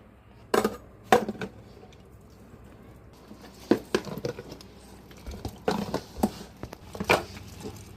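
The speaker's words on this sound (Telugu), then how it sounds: "ఇప్పుడు అడుగు నుంచి గరిటెతో కలుపుకుందారి" A ladle stirs Andhra-style mango pickle from the bottom of a vessel, giving scattered clinks, scrapes and wet squishing sounds in uneven bursts, close and fairly quiet, with no talk.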